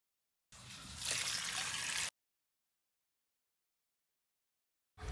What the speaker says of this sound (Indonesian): Lalu kangkungnya kita cuci ulang atau kita cuci kembali menggunakan air bersih. Bisa juga cuci dengan air mengalir.